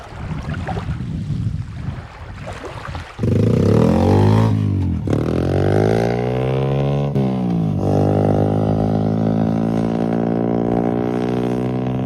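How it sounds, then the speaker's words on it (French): A loud motorcycle engine roars close by and rises in pitch, with engine noise sweeping up and down as motorcycles pass, after a quieter stretch of background noise. "Qu'est-ce que c'est bien les motos."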